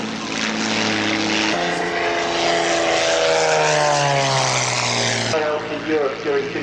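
A propeller aircraft flies a stall turn at a sunset air show at Shuttleworth, its engine droning loud and steady with the pitch shifting as it swings through the manoeuvre, while a commentator talks over it.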